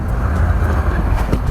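Honda Pilot SUV pulling away in sand mode on a slip test rig, with a steady low engine and drivetrain rumble throughout and faint mechanical whirring above it, no talk.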